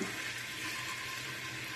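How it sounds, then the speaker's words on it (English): Oil and spices sizzle in a pan on a stove, a steady close hiss that holds evenly for under two seconds with no talking. "You can hear it starting to sizzle a little bit."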